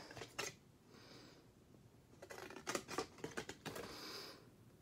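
Scissors snip paper along score lines in quiet bursts of crisp, close cuts, a few quick snips, a pause, then a denser run of clipped cuts.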